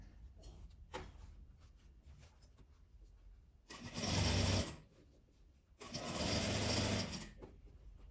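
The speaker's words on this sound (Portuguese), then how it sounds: "Aqui já tô acabando de costurar, quase já completando o nosso círculo todo." A sewing machine stitches a felt wreath base in two loud, continuous runs, each about a second long, with quieter fabric handling and soft background noise in the pauses.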